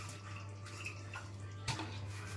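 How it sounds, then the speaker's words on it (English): A short stream of water poured into a cooking pot, running and splashing, steady and fairly quiet against a low background hum, with a brief louder splash near the end. "add water in here, not too much"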